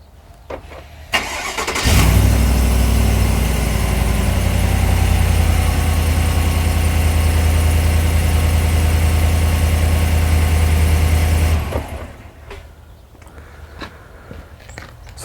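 A 2019 Chevrolet Silverado All-Star Edition engine cranks and catches after remote start, then settles into a loud, steady low idle for about ten seconds before shutting off, leaving quieter background noise.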